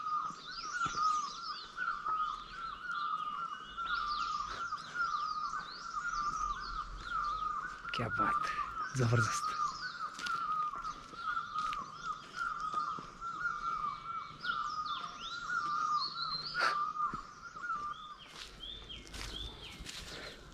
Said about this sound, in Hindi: बहुत सारे पक्षी सुनाई दे रहे होंगे ना।